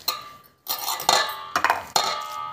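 A sweet laddu mixture with cardamom ground in sugar and dry fruits is stirred in a metal vessel, making bursts of clinking and scraping separated by short pauses.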